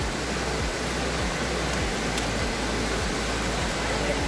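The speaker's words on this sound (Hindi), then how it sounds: "वाटरफॉल है" A waterfall on the Kondhana Cave trek near Karjat roars in a steady, dense broadband rush, close and continuous with no pauses.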